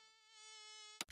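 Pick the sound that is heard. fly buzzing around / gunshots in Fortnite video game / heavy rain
fly buzzing around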